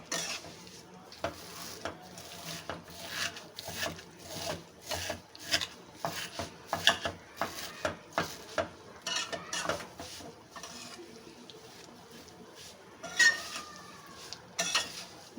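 Dry vermicelli (seviyan) roasting over a low-to-medium flame in a pan, giving a steady scratchy rasp with repeated scraping strokes and light clinks of a spoon against metal throughout, no talk.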